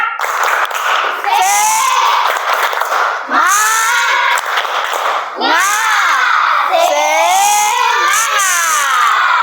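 Classroom children clapping and chanting a rhythmic spirit clap in unison, loud and close, with shouted group voices over patterned hand claps.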